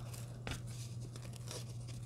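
Cross stitch fabric is peeled back from a layer of spray adhesive for an ornament finish. It makes faint, soft tearing and crinkling sounds in a few short bursts over a low steady hum, with no talking.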